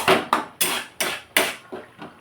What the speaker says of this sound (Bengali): এইবার হালকা করে নেড়ে নেবো। এটা পুরোপুরি লো ফ্লেমে করতে হবে।